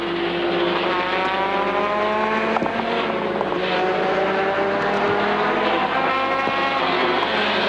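Peter Brock's race car at an auto race: a loud engine revving and climbing in pitch through repeated gear changes, close and continuous with brief mechanical clicks and no talking.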